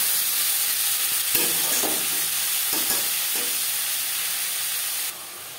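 Chopped tomato and crushed garlic hitting hot oil for a pangas fish curry, a loud continuous sizzle and hiss with a few stirring scrapes, easing off near the end.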